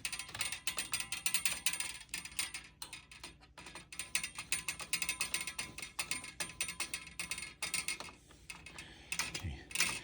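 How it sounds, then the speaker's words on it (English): A hand tool ratchets as screws are tightened on a VegTrug raised planter, giving rapid, close, clicking runs with brief pauses, fairly quiet and without talk. "we're going to tighten up these screws and then finish the assembly"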